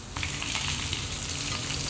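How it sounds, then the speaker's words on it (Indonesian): Tofu pieces dropped straight into hot oil fry in a home kitchen, a steady loud sizzle and crackle filling the whole span without any talking. "lanjut aku mau goreng tahu juga. Kali ini goreng tahunya biasa aja, tahunya langsung dicemplungin"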